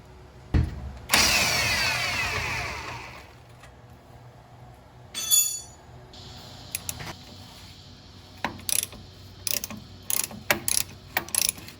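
A ratchet socket wrench, used with a 7/8 inch socket, works the front lower control arm bolts on a 1997 Jeep TJ, giving close bursts of quick clicking ratchet strokes with pauses and metallic handling noises between them.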